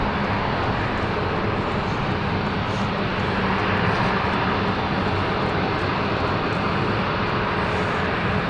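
A fixed-wing airliner roars down the runway at London City Airport on its takeoff run, a loud, steady broadband jet rumble filling the whole stretch without pause.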